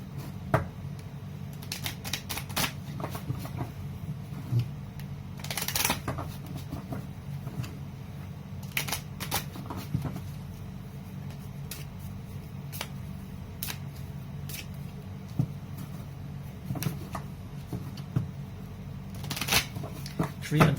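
Tarot cards being shuffled and drawn for a general reading, giving soft close riffling and flicking bursts with quiet handling noise between them.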